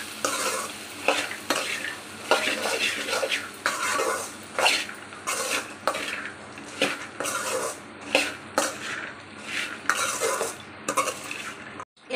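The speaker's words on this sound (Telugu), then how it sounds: "కారం వేసేసి బాగా మిక్స్ చేసుకోవాలండి." Fried black chana is stirred in a pan with chili powder, a spoon scraping and clinking against the metal in repeated strokes over a continuous close sizzle.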